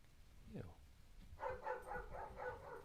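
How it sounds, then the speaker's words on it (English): Several dogs bark from a front room, a burst of repeated yips and barks arriving after a brief muffled sound, moderately near and mixed with room noise. "Got all sorts of dogs in the front room barking."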